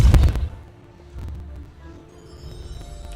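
Depulso force spell cast in Hogwarts Legacy: a sharp, loud burst at the start, followed by a low rumble and faint magical shimmer as debris is pushed aside.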